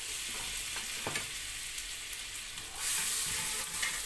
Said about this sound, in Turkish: Şöyle bir kaşık tereyağını tencereye aldım. Orada erisin.